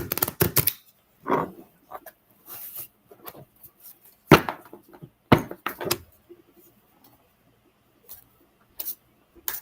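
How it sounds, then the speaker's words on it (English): Tarot cards being shuffled by hand in a quiet room, a series of short papery riffles and taps separated by silent gaps, close and moderately loud with no talking. "We shall shuffle the cards and see what they have to say."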